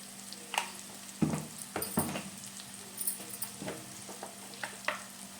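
Green pea paratha filling with turmeric, red chilli powder, salt and coriander powder being sautéed and stirred in a pan, with a low steady sizzle broken by a few sharp scraping and clinking strokes, close and without talk.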